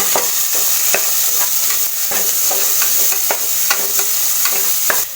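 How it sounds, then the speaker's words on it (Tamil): Onions sizzle in hot oil for moong dal sambar while a utensil scrapes and stirs the pan in repeated strokes, close and loud, with no talking. "போட்டு நல்லா வெங்காயத்தை வணக்கிக்கோங்க."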